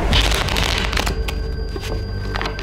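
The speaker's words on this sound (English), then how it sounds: "You want me to shuffle?" A deck of playing cards shuffled during a card game at the haunted Washoe Club, a dense burst of rapid riffling and fluttering card clicks that carries loud and close, then settles into softer crackling handling.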